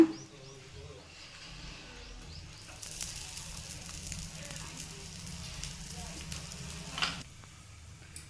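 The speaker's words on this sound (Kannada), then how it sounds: "ಇವಾಗ ಇದನ್ನು ಸ್ವಲ್ಪ ಬೇಯಿಸ್ಕೊಳ್ಳೋಣ. ಅದಕ್ಕೆ ಸ್ವಲ್ಪ ಮೇಲೆ ಎಣ್ಣೆನ ಹಾಕೊಳ್ಳೋಣ." A millet dosa sizzles on a hot pan after oil is added, giving a steady, fairly quiet hiss that swells a few seconds in and then drops away, with faint kitchen noise around it.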